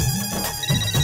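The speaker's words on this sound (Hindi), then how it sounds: "एक मिनट रिया की मम्मी का फोन है।" A short burst of a phone ringtone, a bright electronic melody playing loudly with nothing else over it.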